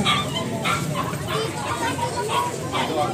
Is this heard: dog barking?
yes